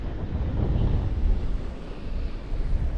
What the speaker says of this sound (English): Just got down to the beach on this windy, cold, wet, drizzly day